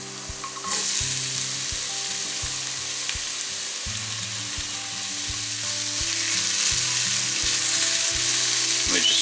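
Onions softening in a pan for a Cypriot pasta bake sizzle and fry steadily, a loud broadband hiss that swells slightly toward the end, with low tonal hum underneath and no talking.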